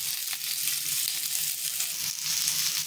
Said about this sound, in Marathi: आता इथे तव्यामध्ये मी जे कांदा कट करून घेतलेला आहे ते टाकून घेणार आहे